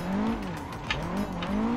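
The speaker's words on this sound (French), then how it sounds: "là je lâche un peu les gaz pour faire partir l'arrière et en même temps pour me ralentir" Nissan S13 drifting on a touge-style track, its engine droning and rising in pitch as the throttle is lifted and reapplied, with tire squeal running steadily and loudly throughout, no voices.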